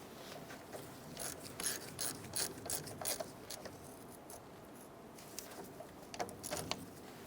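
Mechanical ratcheting clicks as bolts on the front suspension of a 1993-1997 Ford Ranger are snugged down during a lower ball joint replacement, coming in short irregular bursts at moderate volume in a quiet workshop.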